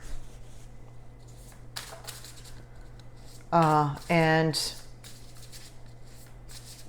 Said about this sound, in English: I'm receiving a vision while I'm shuffling these cards for you